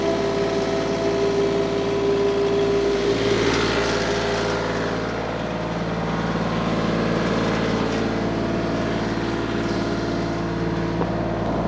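A TYM 2515 compact tractor's engine runs steadily at about 2,100 RPM while working the backhoe, a loud, continuous close-up drone with no voices over it.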